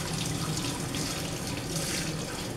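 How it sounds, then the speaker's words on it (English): Steady running water from a faucet while hair is being rinsed after a homemade butternut squash deep conditioner, a continuous close hiss filling the whole stretch without pause. "I'm going to rinse my hair."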